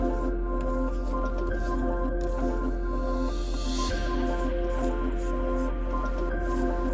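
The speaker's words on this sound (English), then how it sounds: "I'm going to hand stir this so that my cake can still be nice and fluffy." Funfetti cake batter is stirred by hand in a bowl, a soft continuous squishing and sloshing against a steady background hum, close and even throughout.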